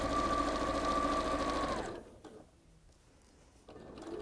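A Sewing Street 550 sewing machine stitches through a chunky fabric pocket piece, a steady loud motor whirr with rapid needle chatter for nearly two seconds before stopping, leaving quiet handling sounds.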